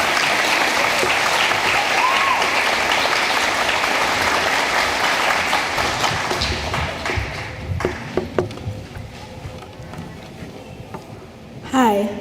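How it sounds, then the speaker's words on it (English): A graduation audience at an adult high school and equivalency ceremony gives loud, sustained applause that thins into scattered individual claps and fades near the end. "Welcome her with a round of applause."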